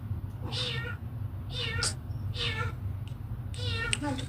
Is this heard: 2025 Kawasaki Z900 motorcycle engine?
no